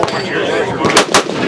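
A rifle firing on an outdoor shooting range during an industry demonstration day, with two sharp, loud shots close together in the second half over steady background noise and faint chatter.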